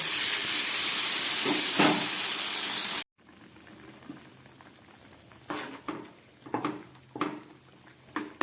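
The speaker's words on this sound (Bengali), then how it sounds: "সবজিটা ফুটে উঠেছে" Spiced vegetables in a pan after water is added: a loud, continuous boiling hiss, then after an abrupt cut a quieter simmer with scattered bubbling pops.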